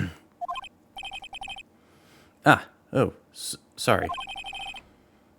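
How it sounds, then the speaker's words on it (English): Telephone ringing after a redial in the Phoenix Wright: Ace Attorney video game, short repeated electronic ring bursts in the first half, followed by loud game sound effects and brief speech. "You pressed the redial on that there phone, didn't you?"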